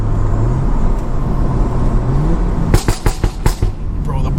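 A BMW F30 335i with a modified loud exhaust rumbles, then fires a quick burst of five or six sharp crackling pops and bangs close by, with a voice speaking over the engine.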